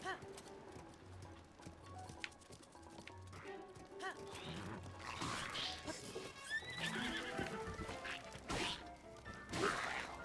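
Horses whinny and snort in the Breath of the Wild video game, several calls scattered across the clip alongside hoof clip-clops and thudding impacts, with a streamer talking intermittently over them.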